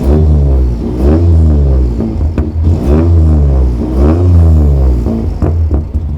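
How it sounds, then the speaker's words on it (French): A cold Peugeot 208 Rally engine revs hard and repeatedly, loud and close, each blip rising and falling in a rough rhythmic vroom over a deep idle rumble. "Tu veux un petit coup de gaz?"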